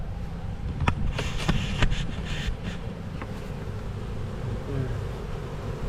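A steady, low buzzing of many honey bees close by, continuous throughout, with a few faint knocks and taps over the drone.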